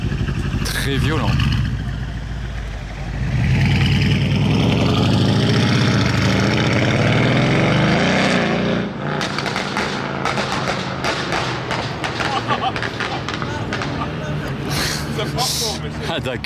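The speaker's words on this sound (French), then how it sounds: "les retours d'échappement, alors là, ils ont été très violents, ils ont vraiment résonné" Mercedes-AMG Black Series car pulling away on a Paris street, a loud engine surge followed by a run of sharp exhaust crackles and pops resonating off surroundings, with people talking over it.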